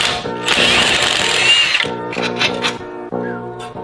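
A power tool spins off a wheel bolt on a BMW 340i in a shop, loud whirring bursts that stop and restart in short pulses, with brief clicks at the end.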